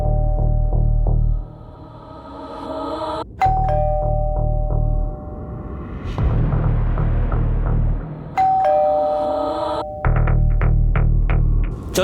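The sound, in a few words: doorbell ringing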